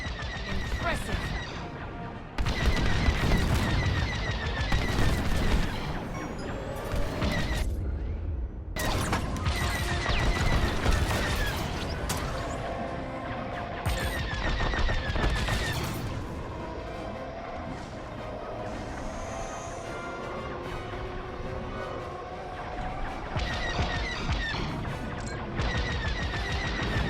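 Starfighter blasters fire in rapid volleys during a Star Wars: Squadrons space battle, dense and loud throughout, mixed with explosions, engine roar and occasional radio voices.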